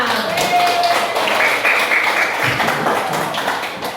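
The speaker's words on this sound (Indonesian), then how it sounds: "Tepuk tangan untuk kita semua" Students in a school classroom clap together for several seconds, a lively patter of many hands that thins toward the end, with brief voices mixed in.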